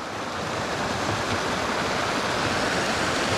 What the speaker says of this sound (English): This is really our first waterfall cascade of the whole trip.